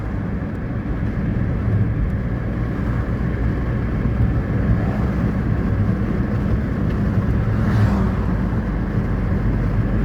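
Steady broadband roar of a car passing on a city street, loud and continuous with a low rumble throughout and a slight swell near the end, no voices.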